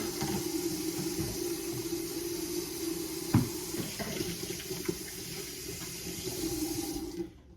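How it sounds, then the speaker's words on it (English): A sink tap runs steadily as hands are washed under it, a continuous close watery rush with a brief clunk midway before the flow cuts off near the end. "let me wash my hands"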